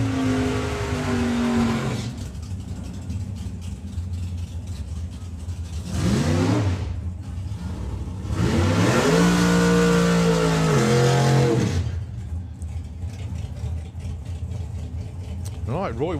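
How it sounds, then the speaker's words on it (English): A Ford Mustang drag racing car at Santa Pod Raceway revs loudly in repeated rising and falling engine bursts, with a rumbling idle between them. A commentator talks over the engine noise. "Right, Roy Walker with the Mustang. Going alongside Pete Dodd."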